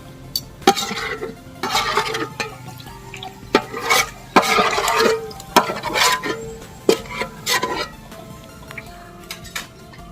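A spoon stirs and scoops onions frying in a pan for Kerala-style chicken chukka, giving irregular scraping clinks and sizzling scrapes, close and moderately loud, with quiet pauses between strokes.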